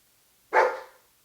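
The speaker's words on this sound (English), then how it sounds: "the dog bark was pretty ear-piercing" One loud, close, ear-piercing dog bark captured on an IK Multimedia iRig microphone, a sharp burst that fades quickly into silence.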